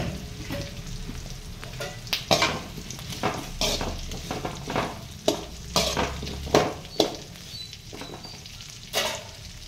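Cut brinjals sizzling in a pan with onions while a spoon stirs them, giving repeated sharp scraping clacks over a continuous frying crackle, close and fairly loud, without speech.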